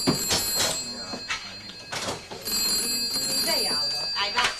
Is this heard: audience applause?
no